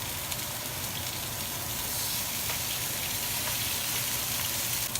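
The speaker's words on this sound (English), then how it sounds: "We're gonna place both steaks in the pan." Two steaks sizzle steadily in a hot pan, a continuous close hiss and crackle of frying with small pops, with no talking over it.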